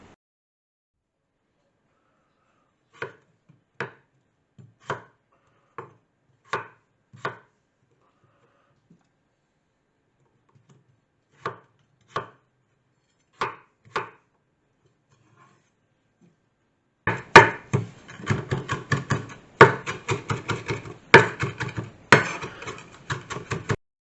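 A knife chops swede, leeks, onions and carrots on a board for Welsh cawl: a few sparse, crisp single chops with pauses, then a burst of rapid, dense chopping near the end.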